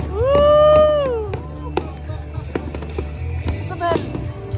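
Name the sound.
fireworks exploding at festival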